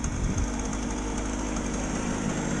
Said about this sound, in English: Obviously it's running now. And there is a bit of smoke because obviously it's a 2-stroke